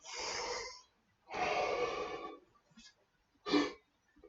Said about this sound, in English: There's half a breath just by releasing the abdominal wall